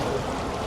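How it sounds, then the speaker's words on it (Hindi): Sea water at the Barcelona seafront, a brief steady wash of moving water heard fairly close, with no voices over it. "पानी की आवाज़ आ रही है आपको?"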